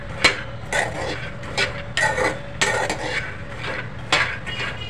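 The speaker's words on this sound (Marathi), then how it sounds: "अजून थोड्या वेळ आपण हे शेंगदाणे भाजून घेऊया." Peanuts dry-roasting in a pan over low heat, scraped and stirred with a utensil, producing repeated clinks, scrapes and rattling knocks in an irregular rhythm, close up and fairly loud.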